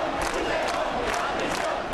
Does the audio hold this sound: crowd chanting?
yes